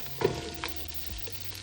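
Onion and pepper frying in a pan, a soft steady sizzle with a faint clink or stir near the start and a low background hum.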